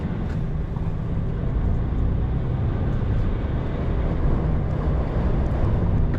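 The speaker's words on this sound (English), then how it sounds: "Might be able to hear the wind picking up again as well." Strong gusting wind from Storm Eowyn, with gusts over 40 mph, roars steadily close to the microphone in a deep, rumbling wash of buffeting noise with no speech.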